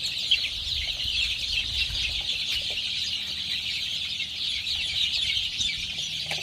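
A crowded flock of about 500 desi chicks chirps and clucks continuously on a farm, a dense, even chatter with no speech.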